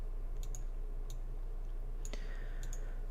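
Computer mouse clicks while creating template folders: a handful of sharp, isolated clicks scattered over a steady low hum, some in quick pairs, with no speech.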